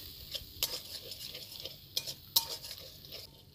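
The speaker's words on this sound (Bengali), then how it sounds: "খুব ভালো করে কষিয়ে নিচ্ছি" Poppy seed paste sautéing with salt, spices and green chillies in a pan, a faint sizzle under repeated light stirring and a few sharp utensil clinks against the pan.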